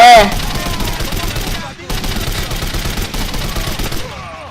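Rapid bursts of automatic gunfire from the war shooter game Code of Honor crackle almost without pause, loud and dense throughout, with a short break midway before the firing resumes.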